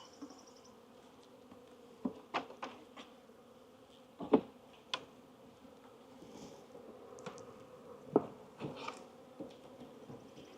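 Honey bees buzz around an open hive box during a beekeeping inspection, a faint, soft drone with scattered brief passes of individual bees flying close by.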